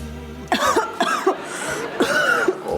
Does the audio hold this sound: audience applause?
no